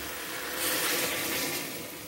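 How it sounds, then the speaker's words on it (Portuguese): Water pours steadily into a pressure cooker pot with a bright rushing splash that swells midway, close by and alone. "Agora a gente vai estar colocando a água"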